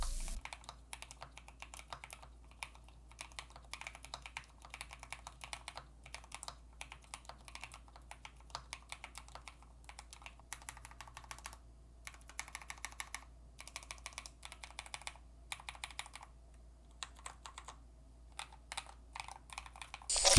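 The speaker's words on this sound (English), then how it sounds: "Let's do a typing test." A Skyloong GK104Pro V4 keyboard fitted with KTT Rose Pink silent switches is typed on steadily, giving a fast, soft, muffled patter of keystrokes close by with no talking.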